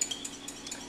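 Honey is stirred in a pan set over a grill fire, a spoon scraping and clinking softly against the pan in a quick, irregular rhythm, close and fairly quiet.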